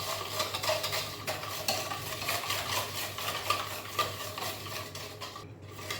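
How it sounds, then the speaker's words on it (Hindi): Sugar stirred into a fruit salad mixture in a bowl, a continuous scraping, swishing stir with faint clinks of a utensil, steady and close, no talking. "चीनी जो है वो अच्छी तरह मिक्स हो जाए, अच्छी तरह से हमने इसको मिक्स कर लेना है"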